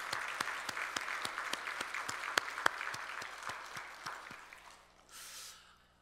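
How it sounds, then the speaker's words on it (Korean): A church congregation at a Sunday worship service bursts into applause, many hands clapping in a steady rhythm that stays fairly even before fading out, followed by a brief soft hiss. "우리 찬양 받으신 주님께 영광의 박수."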